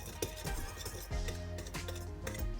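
Sugar being stirred into a mixture in a bowl for Oreo ice cream sandwiches, heard as a spoon clinking and scraping against the bowl in quick, uneven strokes, close and moderately quiet.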